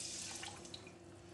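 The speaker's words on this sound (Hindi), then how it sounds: "इसमें मैं 2 कप पानी डाल रही हूँ।" Water pours into a kadhai over sugar on a gas stove to make sugar syrup, a brief, steady splashing trickle heard close up with no talking.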